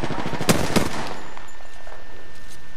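Rapid bursts of automatic gunfire in the video game Apex Legends: two sharp, loud shots stand out near the start over a quick rattle, then trail off into faint ambient noise.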